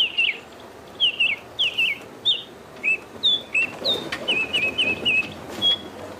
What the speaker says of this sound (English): Here is the bearded robin's call, Lucy.